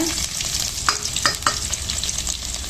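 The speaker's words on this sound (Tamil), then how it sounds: "பூண்டு அதையும் எண்ணெயிலே போட்டுணுங்க" Garlic sizzles and crackles steadily in oil in a pan, with a few sharp clinks of a utensil stirring through it.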